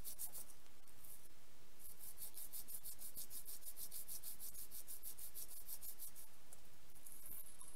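Gray metal sandpaper rubs across the bottom of a silver ring's table, giving faint, steady back-and-forth scraping strokes in a quiet room.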